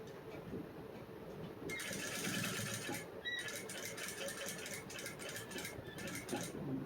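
An electric sewing machine stitching a back-open princess-cut blouse starts up and runs at a steady, moderate whir close by, with brief pauses in the motor and a low background hum.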